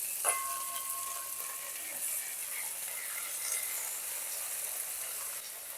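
Green chili and tomato paste sizzle in a pan of potato and cauliflower curry, a faint, even hiss with a small clink at the start and no talking.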